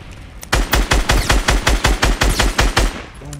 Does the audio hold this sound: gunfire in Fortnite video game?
yes